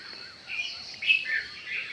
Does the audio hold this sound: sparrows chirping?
yes